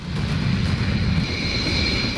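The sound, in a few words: Rafale fighter jet flying overhead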